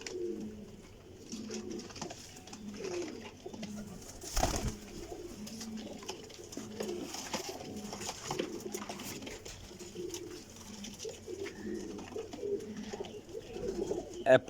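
Racing pigeons of the Rampuri, Kasuri and Lakhi types coo steadily in a loft, low throaty calls repeating close by with a soft murmur of many birds overlapping.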